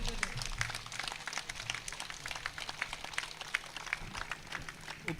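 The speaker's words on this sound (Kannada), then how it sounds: "ದಯವಿಟ್ಟು ಎಲ್ಲರೂ ಎದ್ದು ನಿಂತು ಅವರಿಗೆ ಚಪ್ಪಾಳೆಯನ್ನು ಮತ್ತು ಸ್ವಾಗತವನ್ನು ಕೋರಬೇಕಾಗಿ" Audience at a Congress office foundation-stone ceremony in Puttur applauding a guest, with dense, steady clapping from a large crowd continuing throughout.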